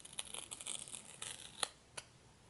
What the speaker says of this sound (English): Unwrap it.